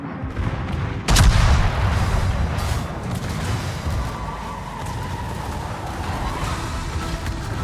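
Ship secondary guns firing in World of Warships during a low-tier cruiser and battleship match: a sharp, loud blast early on, then repeated booming shots over a steady rumbling battle ambience.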